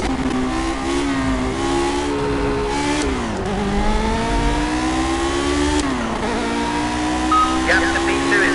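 An old race car in the Project CARS video game drives hard, its engine holding a steady high whine that dips and climbs again through gear changes and corners; someone talks over the continuous engine noise.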